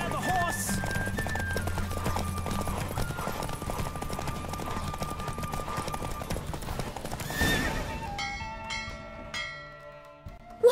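Hooves gallop with a rapid, steady clip-clop during a horse race in The Witcher video game, with a horse whinnying, bell-like tones and voices in the background before the hoofbeats thin out near the end.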